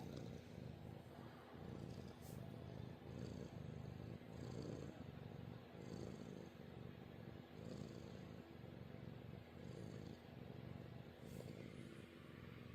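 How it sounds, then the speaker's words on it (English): A cat purring close up, a low rumbling drone pulsing in slow regular cycles with each breath, steady and continuous. "But they give me the calming vibrations of the little purrs."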